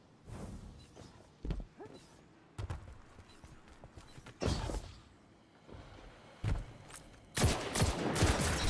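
Jade Rabbit scout rifle in Destiny 2 firing in spaced single shots and short bursts, sharp cracks at moderate loudness, with heavier sustained fire closing the passage.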